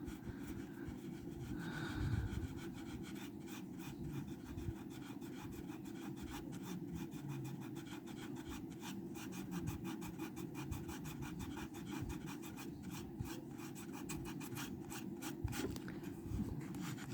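Steady rubbing of a hand tool across a craft project in a back room, a continuous scraping, sanding-like texture that runs throughout at moderate level with no talk.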